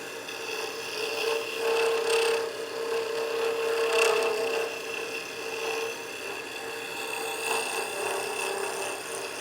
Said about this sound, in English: now I'm just going to use my negative rake scraper just to go over and smooth out any imperfections across the surface